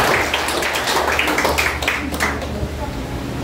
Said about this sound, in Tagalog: Sige, palakpak tayo.